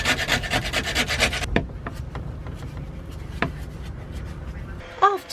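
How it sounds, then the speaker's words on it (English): Scraper rasping rust off a steel narrowboat deck: fast rhythmic scraping strokes up close, then slower isolated scrapes and knocks, ending with a short squeak. "So I'm just going to treat all the rust and scrape all the rubbish off"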